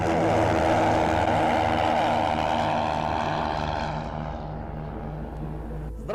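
A Cessna 150's piston engine drones loud and steady during a power-on stall, a throbbing propeller hum heard from inside the cockpit that eases slightly toward the end.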